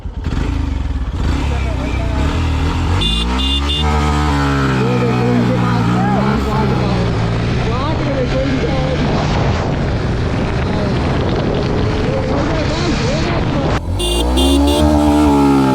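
A Yamaha FZ 150 motorcycle with a 150 cc engine races an Ola S1 Pro electric scooter flat out. Loud, close engine roar rises and falls through revving gear changes, with excited voices talking over it throughout.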